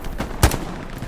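A machine gun in the World War II shooter Hell Let Loose, one sharp loud report with a short booming tail, standing out against a faint background rumble.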